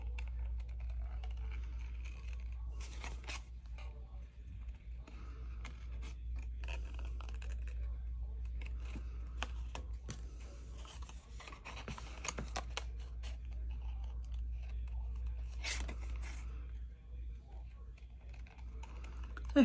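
Scissors snip around a stamped paper card flower, a series of quiet close crisp cuts and paper rustles over a low steady hum, with brief speech.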